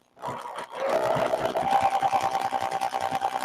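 A sewing machine runs steadily while stitching along a line on a quilt, a fast even mechanical whir that starts after a brief pause and holds at constant loudness.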